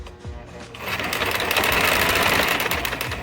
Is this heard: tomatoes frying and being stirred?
no